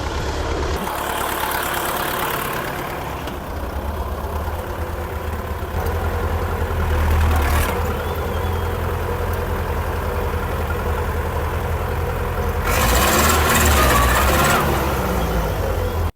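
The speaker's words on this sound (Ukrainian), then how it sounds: "я зараз кину сцеплення на четвертій передачі, ти побачиш" Engine of a T-40 tractor running steadily with a low, throbbing drone, with the clutch dropped in fourth gear; the load rises in a brief surge around midway and again near the end, with no talk.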